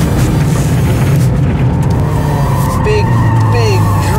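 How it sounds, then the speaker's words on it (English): A VW Mk8 Golf R drifts across desert ground with its stability control switched off, engine droning steadily up close while whining tire and drivetrain tones rise and sweep, with no pauses throughout. "Big, big drifts."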